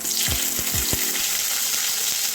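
Mustard seeds crackle and sizzle in hot oil for mango pickle, a dense, close frying hiss with several quick popping knocks near the start.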